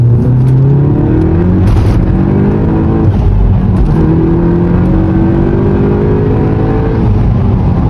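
A tuned 400hp VW Golf Clubsport accelerates hard up a road in sport mode, its loud engine climbing in pitch through several gear changes, close and continuous with no talk.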